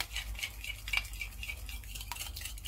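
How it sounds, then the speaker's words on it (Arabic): Spoon stirring a mixture of sugar, yeast, milk and vanilla in a bowl, with light repeated clinks and scrapes against the bowl in a steady rhythm, heard alone and close. "حركوا منيح لانه يدوبوا بس لحد ما الخميره مع السكر والحليب الفانيليا تتفاعل"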